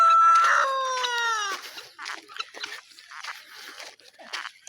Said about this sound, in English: They are mixed with some chicken around here.